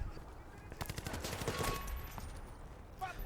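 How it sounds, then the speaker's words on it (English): Rapid automatic gunfire bursts from a Battlefield 3 squad deathmatch match, crackling in quick succession at moderate level, with a voice talking over the shooting and a brief sharp hit sound near the end. "I like that sound when you get a headshot."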